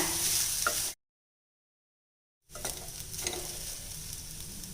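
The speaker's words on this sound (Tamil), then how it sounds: "இப்போ இதை நல்லா பெரட்டி விட்டாச்சுங்க" Rice being stirred and heated in a pan gives a soft, close sizzle with light scraping, broken by a brief silent gap before the frying resumes.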